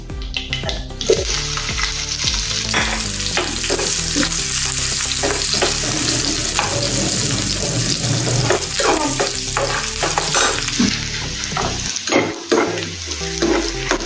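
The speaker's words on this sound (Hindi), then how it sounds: "अभी राई और जीरा हो गया है, प्याज डालेंगे हम।" Steady loud sizzling and crackling of onions frying in hot oil with mustard seeds and cumin, with occasional stirring scrapes throughout, close up and without talk.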